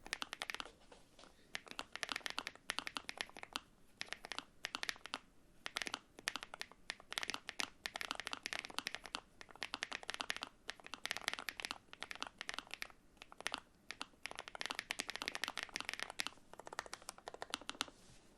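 Rapid typing on a Chilkey ND75 low profile keyboard, dense clacking keystrokes in quick irregular bursts, close and fairly quiet, with brief pauses, no voices.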